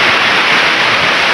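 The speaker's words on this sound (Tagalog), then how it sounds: "Medyo malakas yung alon kasi tanghaling tapat tayo dito nagpunta sa" Strong midday ocean waves at Mauban, Quezon roar as a loud, steady broadband wash that fills the whole moment without letting up, with no voices heard.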